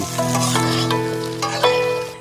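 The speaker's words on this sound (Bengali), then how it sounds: "ফুলকপি আলু ভেজে নেব। ভাজার সময় একটু হলুদ, একটু লবণ দিয়ে নাড়িয়ে চাড়িয়ে নিন।" Cauliflower and potato fry with turmeric and salt in a pan, giving a loud, steady sizzle with a few sharper crackles and stirring bumps throughout.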